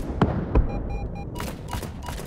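A few sharp bursts of gunfire in a video game, with a short electronic tone pattern between shots and a denser volley near the end.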